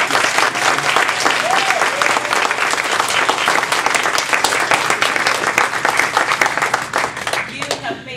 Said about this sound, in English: Let's give our table topic contestants a round of applause